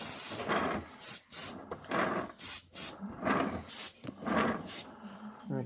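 Airbrush spraying paint in short repeated bursts over a model rock, soft hissing puffs at a steady rhythm, close and fairly quiet.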